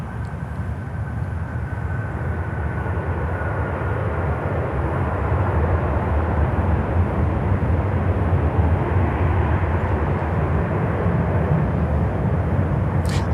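An Airbus A340 cargo jet at Miami airport gives a loud, continuous engine roar, a broad rumbling drone holding steady throughout, with no voices.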